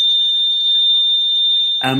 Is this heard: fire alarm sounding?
yes